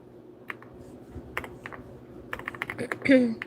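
Rapid bursts of clicky keystrokes come from a computer keyboard while names are typed, close and irregular, with a voice talking softly underneath.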